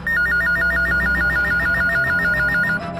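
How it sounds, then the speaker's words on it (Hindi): A phone call to the police emergency number 100 rings out loud and close as an electronic telephone ring, a fast warbling trill repeating steadily for about three seconds with no voices. "कुछ दिन पहले पुलिस हेडक्वार्टर्स में डायल 100 पर एक फोन कॉल आया था।"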